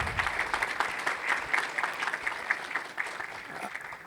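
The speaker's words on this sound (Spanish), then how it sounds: "Un aplauso para Alberto Arenas." Audience applause at an international pension seminar, with soft, even clapping heard at a distance and kept up steadily.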